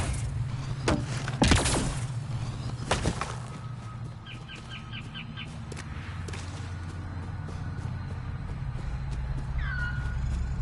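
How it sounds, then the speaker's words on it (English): A cat meows amid game sound effects in the video game Andromeda, with sharp whip-like cracks and fluttering noises early on, then a steady ambient hum and brief chirps. "Cat!"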